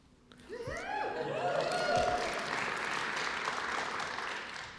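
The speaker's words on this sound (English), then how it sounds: "They're actually clapping for you" Audience at a university hall of fame induction ceremony breaks into applause that swells within a second and holds as a broad, steady clapping roar, while a voice speaks briefly at the very start.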